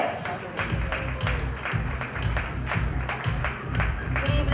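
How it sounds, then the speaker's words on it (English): An audience at a fashion show claps in a rolling round of applause, with steady dense clapping mixed with low rumble and crowd noise throughout. "Please welcome her with a huge round of applause"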